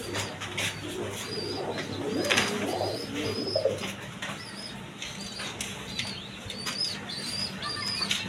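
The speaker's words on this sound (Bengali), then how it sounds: "দর্শকবৃন্দ এখানে এক পেয়ার কবুতর আছে দেখেন" A pair of household pigeons coo softly and intermittently over a steady background hum, with occasional fluttering and faint chirps nearby.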